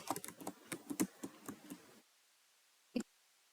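Close, quick bursts of clicking keystrokes on a computer keyboard while typing Python code, an irregular patter for two seconds, then a pause and one final key tap.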